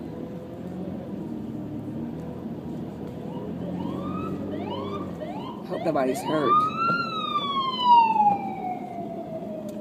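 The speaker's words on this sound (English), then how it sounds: "Anyway, a lot of police cars." A police siren rises and wails at moderate distance over steady traffic rumble at an incident involving a school bus, while a person briefly speaks nearby.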